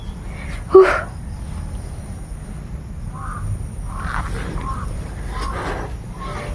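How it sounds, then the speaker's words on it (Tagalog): Crows caw in the open air, with one sharp nearby call followed by a few fainter, scattered caws over a constant drone of insects. "Nagsisidatingan na naman yung mga bagong uwak"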